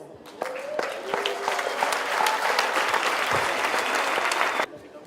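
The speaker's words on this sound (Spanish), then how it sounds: "Un aplauso para ustedes." Audience at an inaugural forum panel breaks into sustained applause, a dense wash of many hands clapping at steady loudness for several seconds before cutting off abruptly, with a few scattered sharp claps at the start.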